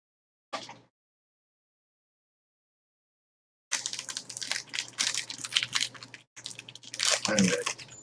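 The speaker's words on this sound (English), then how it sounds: "the plastic sound you're hearing is me opening my favorite snack, the Milky Way." A plastic Milky Way candy bar wrapper is torn open and crinkled, with a short rustle, a pause, then several seconds of close, continuous crackling and crunching.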